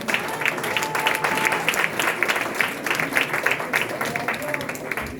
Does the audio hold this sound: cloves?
no